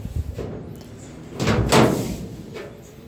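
The door of a 1951 Ford sedan swings open during inner and outer door panel replacement, giving a couple of soft metallic creaks and thumps against a quiet workshop background.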